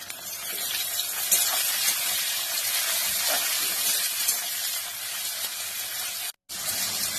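Chopped tomato goes into a hot pan of rui fish curry, giving a steady loud sizzle and hiss that runs throughout with a short break near the end.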